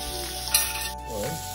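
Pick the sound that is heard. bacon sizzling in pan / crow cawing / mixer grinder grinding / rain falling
bacon sizzling in pan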